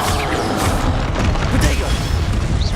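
Booming fire-spell blasts from Hogwarts Legacy combat, a dense continuous low rumble of explosions with layered crackling bursts throughout, loud and close, with a voice shouting spell names over the fighting.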